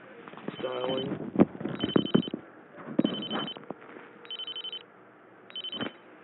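A test telephone rings back through an L.T.E ST-37V hospital handset: five short bursts of electronic ringing tone repeat at a steady rhythm over background clatter and muffled room noise.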